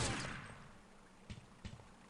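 Gunfire in a 4v4 Freeze Tag tournament match of a video game: two fairly faint, sharp shot bursts land in quick succession after a noisy fading opening, with no talk over them.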